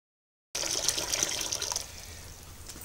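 Hot water runs from a brewing hot liquor tank into a vessel, 16 litres for an all-grain black IPA brew, starting abruptly as a steady splashing gush that softens into a quieter trickle, close and alone.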